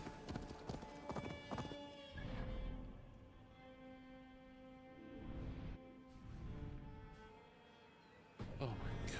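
Hooves clip-clop steadily as a horse gallops in the Assassin's Creed Valhalla video game, with a music score and someone talking over the rhythmic hoofbeats.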